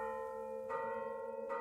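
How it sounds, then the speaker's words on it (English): A bell in the puzzle game Moncage rings twice, each strike a bright metallic chime over a sustained ringing hum, close and clear without talk. "Now we can ring the bell."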